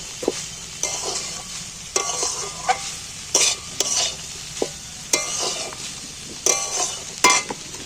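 Spice paste for a Bengali singara and chutney recipe stir-fried in a pan, with repeated scraping strokes of a spatula every second or so over a steady close sizzle, plus occasional clinks against the metal.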